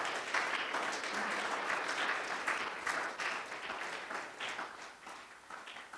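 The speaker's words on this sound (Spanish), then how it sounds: "Démosle palmas al Señor en esta preciosa noche." A church congregation claps and applauds steadily throughout, a dense, fairly distant wash of hand claps filling the room with no voice on top.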